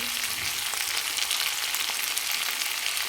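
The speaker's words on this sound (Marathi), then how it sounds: "हे मटणचे पीस पूर्ण असे तळून निघल्यासारखे निघाले पाहिजे" Mutton pieces frying in a pan with salt and coriander, a steady, close, bright sizzle with faint crackles throughout.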